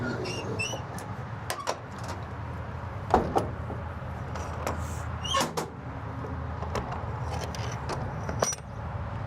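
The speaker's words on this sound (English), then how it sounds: "you guys can see when I shut this door" A few solid clunks and rattles as a door on a three-horse gooseneck trailer with living quarters is pushed shut, set against a low steady hum of outdoor or engine noise.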